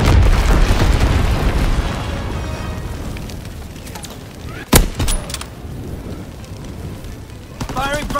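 Incendiary bombs dropped from a low-altitude bomber explode in the Call of Duty WWII video game, a heavy rumbling roar that slowly fades, broken by one sharp crack midway and a smaller burst near the end.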